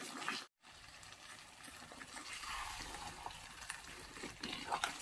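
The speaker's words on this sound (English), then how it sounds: "Okay, so I'm going to add water." Water poured into a pot of efo elegusi in a home kitchen: a steady, moderately loud pouring and sizzling hiss that runs the whole time after a brief silent gap near the start.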